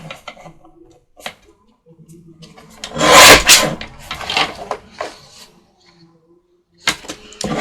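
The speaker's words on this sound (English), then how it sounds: "So let's go ahead and probably should cut those edges off." A small paper cutter trimming the edges off security envelopes, a few close scraping and sliding strokes, one louder rasping pass in the middle, with scattered paper handling between.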